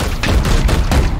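Several heavy gunshots in quick succession fire in Warhammer 40,000: Chaos Gate - Daemonhunters, loud and close and spaced a fraction of a second apart over dense battle noise.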